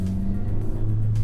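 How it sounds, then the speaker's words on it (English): A 2017 Honda Civic Si rolling slowly around a parking lot in regular mode, a steady low engine rumble and hum heard from inside the cabin, even and moderately loud with no talking. "Let's go for a little drive around the parking lot first, just to kind of get a feel for the car."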